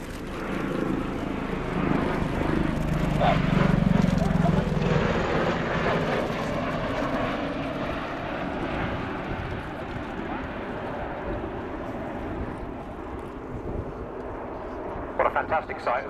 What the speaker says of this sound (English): What a fantastic sight as those engines start to rotate. You see it now transition from wing-borne flight into rotor-borne flight.